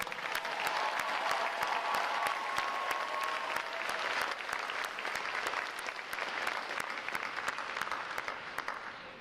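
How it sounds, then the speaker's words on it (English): A large crowd applauds steadily and loudly for several seconds at a U.S. Navy boot camp graduation, with dense clapping throughout and a faint whistle or cheer near the start. "How about a round of applause for their performance today, folks?"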